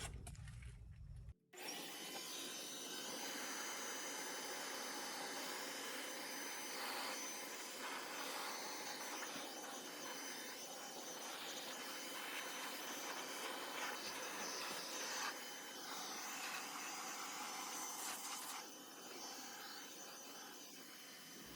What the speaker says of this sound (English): take a look and see how much lint we'll get out of this motor as we blow it out